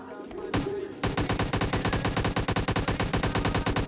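Rapid automatic gunfire from a bot in a shooter video game, loud close bursts of evenly spaced shots running almost continuously.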